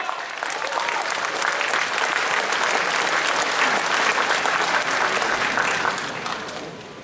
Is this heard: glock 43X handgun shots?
no